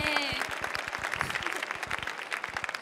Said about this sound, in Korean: 큰 박수 다시 부탁드립니다.